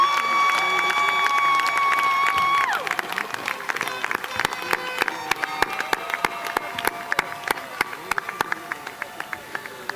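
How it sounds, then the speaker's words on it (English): At the Sonoma State commencement ceremony in 2014, a sustained tonal sound gives way after a few seconds to a large crowd's scattered, sharp clapping that continues to the end. "Let's give everybody who managed this day a round of applause."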